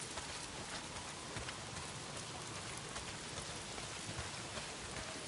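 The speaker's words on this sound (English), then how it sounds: "not if it's pissing down rain" Heavy rain pours down steadily in the Days Gone video game, a dense, continuous hiss of drops hitting surfaces that stays loud and even throughout, with no voices.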